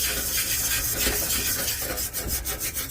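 Close, loud scrubbing of rust from an old metal frame, with repeated rough rasping strokes in a quick back-and-forth rhythm and no talking.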